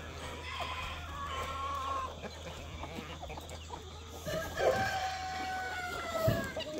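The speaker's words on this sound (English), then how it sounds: "Hey, guinea fowl." Guinea fowl on a homestead in the morning call with repeated harsh, clucking cries over a steady outdoor background, some calls louder and closer than others. No one speaks.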